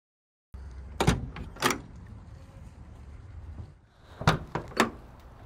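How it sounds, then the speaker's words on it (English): Close mechanical clunks of a 1972 GMC K20 4x4 pickup door latch releasing and the door swinging open, a couple of sharp clicks, a pause, then more latch sounds. "Very smooth opening doors, dig that."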